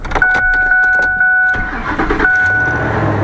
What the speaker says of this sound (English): what you want to do is start the truck